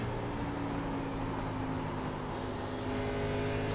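NASCAR Xfinity race car engine at full throttle in the iRacing simulation at Pocono, a continuous steady droning roar with sustained tonal hum, fairly loud and uninterrupted, no talking.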